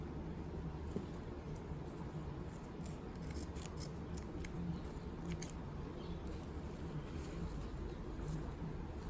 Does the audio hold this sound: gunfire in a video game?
no